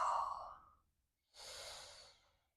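One slow, deep breath: a breathy exhale that trails off, a short pause, then a long airy inhale, close and soft, with no one speaking.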